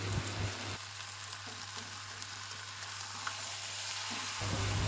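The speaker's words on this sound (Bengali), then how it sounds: "এটাকে ভালো করে চাল ডালটাকে ভালো করে চিকেনের সাথে কষিয়ে নিতে হবে" Washed rice and lentils fry with chicken in a pot for khichuri, giving a continuous, close sizzle with occasional stirring scrapes and a low steady hum underneath, and no one speaking.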